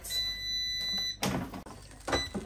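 A faint, steady electronic beep from an air fryer finishing its cook time, then a couple of clunks and rustling handling noises.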